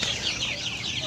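Several chickens on a poultry farm of over 500 birds cluck in a busy, continuous chatter, close by, with a steady farmyard background and no talking.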